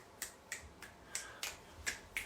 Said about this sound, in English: Maybe a couple more snaps.